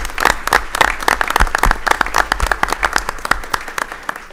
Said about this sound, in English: So round of applause to the players